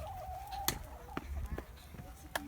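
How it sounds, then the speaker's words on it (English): Backyard chickens in a coop give a few short clucks and sharp calls, fairly close, over a low background hum, with no talking during the calls. "Hi, chickens."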